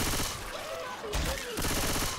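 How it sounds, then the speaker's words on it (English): Short, loud bursts of gunfire in Left 4 Dead 2 crackle in quick succession over a couple of seconds, with brief gaps between volleys and faint game noise underneath. "Can you stop shooting my face?"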